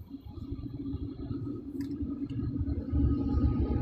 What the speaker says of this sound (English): There you go. There's the train.